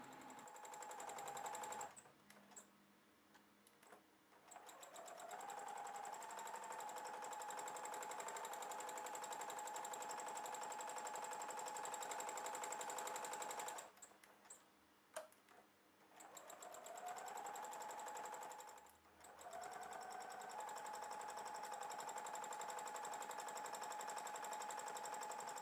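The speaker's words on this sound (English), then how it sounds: "Here I'm stitching several long lines to represent the strings and going over them again a couple of times to" Sewing machine stitching long straight lines for thread sketching with appliqué, a fast steady needle whir running in three long bursts separated by brief pauses.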